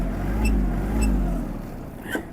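A Kubota GL-220 mini tractor's engine runs with a low steady rumble, close by and fairly loud, as it pulls away, with a brief rising whine near the end.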